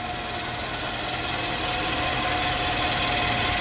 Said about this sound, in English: I can barely hear this motor running right now